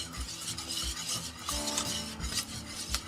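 Vegan chocolate spread mixture being stirred in a pot, a steady scraping and swishing with regular rhythmic strokes and faint clinks of the utensil, close and fairly quiet, with no talking.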